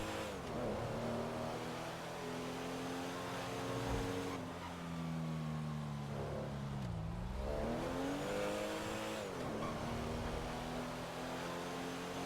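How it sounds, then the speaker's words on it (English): A car engine in a FiveM GTA roleplay server revs and drones continuously, its pitch climbing and dipping through several gear changes with a strained, rough tone that sounds close to breaking, loud and steady with no talking. "the engine sounds like it's always like fucking about to break"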